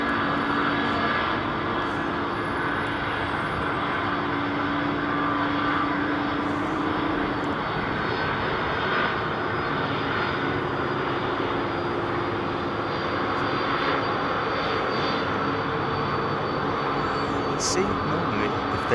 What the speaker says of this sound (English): Now this is the multi-bladed engine, folks.